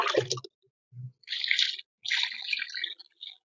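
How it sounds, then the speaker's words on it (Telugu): Water drains through wet soil in a potted rose plant on a terrace garden, giving a few short trickling, splashing bursts separated by brief pauses, close and fairly quiet. "ఇప్పుడు నీళ్ళు ఎక్కువ పోసుకోవాలండి ఇవాళ"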